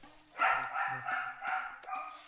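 Several pet dogs bark and yip repeatedly indoors, wanting to be let outside, a series of moderately loud, evenly spaced barks with no talking.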